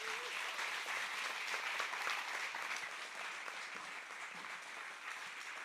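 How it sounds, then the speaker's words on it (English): Steady applause from a church congregation fills the room, dense and continuous clapping that holds at an even level throughout before easing slightly toward the end, with no talking. "Let's give him a round of applause."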